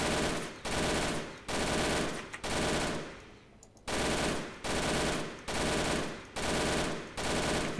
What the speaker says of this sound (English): Just to like make you listen to the MG